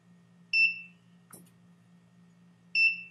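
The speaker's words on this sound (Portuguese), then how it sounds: "Deixa eu ligar aqui o bipzinho" Electronic beeps from a Godox FT-16 flash radio transmitter: two short, clean high-pitched double-tone beeps spaced about two seconds apart, with a faint click between them in a quiet room.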